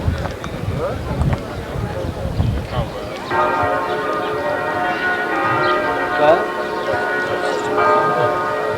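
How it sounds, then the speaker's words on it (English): Church bells ring in Jerusalem, a sustained layered peal of many overlapping tones that starts partway through and carries on steadily, following a stretch of outdoor bustle with a low rumble and footsteps. "The first time that you can hear the bells, the muezzin of the Muslims and the Jewish prayer all at the same time."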